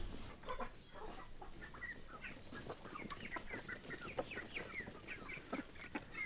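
Chickens cluck continuously in a quiet barnyard, with several birds giving short overlapping clucks and soft calls, heard from a little distance.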